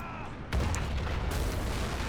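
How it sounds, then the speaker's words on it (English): World War II artillery fires in the strategy game Men of War: Assault, a heavy boom breaking in after half a second and rolling into a dense, sustained rumble of battlefield noise. "Let's get our artillery to shoot then instead."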